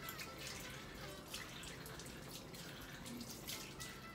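Water runs steadily from a bathroom tap as a face is washed at the sink, a continuous close splashing rush with no talk.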